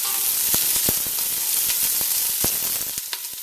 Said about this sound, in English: And give that a quick stir.